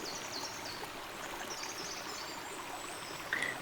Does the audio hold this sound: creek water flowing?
yes